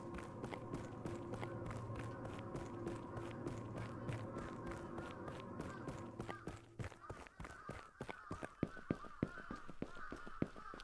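Flock of birds in the video game Akai Onna, with honking, goose-like calls layered over steady ambient noise, giving way in the second half to sharp rapid clicks and taps.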